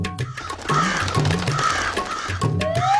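Cartoon crows on a rooftop ledge caw loudly in repeated harsh calls that overlap at close range, with no speech over them.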